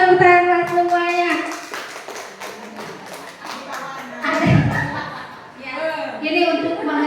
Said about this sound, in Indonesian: Oke, beri tepuk tangan semuanya.